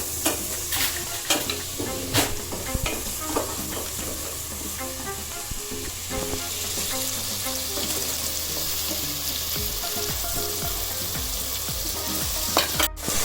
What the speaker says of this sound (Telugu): ఇప్పుడు ఈ అల్లం వెల్లుల్లి పేస్ట్తో పచ్చివాసన పోయేంత వరకు ఫ్రై చేసుకోవాలి.